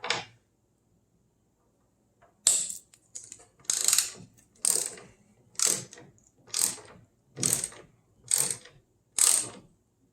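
Ratchet turns loosen 10mm nuts on the hood struts of a 1994-2004 Mustang: about eight evenly spaced bursts of close ratchet clicking with short quiet gaps between them, heard alone.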